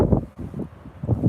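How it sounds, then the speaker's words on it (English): Gusty wind buffeting the microphone in low rumbling bursts, several rough surges with brief lulls between them. "Yeah, it's a little windy."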